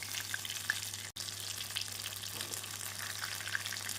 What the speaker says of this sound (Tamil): நாம் ஹை ஃப்ளேமிலே வைத்து 2 நிமிடம் பொரித்து எடுத்தோம் என்றால் கிறிஸ்பாக அருமையாக வந்துவிடும்